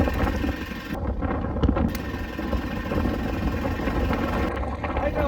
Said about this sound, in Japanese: めっちゃ風吹いてます。